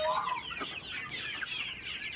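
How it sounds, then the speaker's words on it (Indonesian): A sick, listless chicken with a respiratory illness makes a raspy, snoring, rattling breath sound alongside clucking calls, close up and continuous, with no talking. "kita bisa lihat ayam ngorok ya guys"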